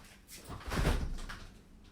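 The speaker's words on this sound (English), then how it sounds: "I'm actually just going to open the back door." A back door of a warm conservatory is opened, giving a single soft clunk and a brief rush of movement near the middle, fairly close and moderately loud, with no talk over it.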